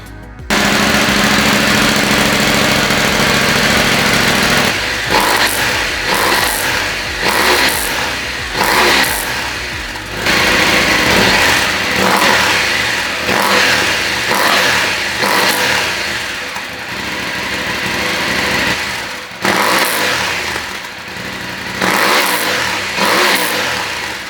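A loud KTM 890 Adventure motorcycle engine with an Arrow decat exhaust revs repeatedly with a raw, aggressive exhaust note, rising and falling in sharp bursts with crackles between throttle blips.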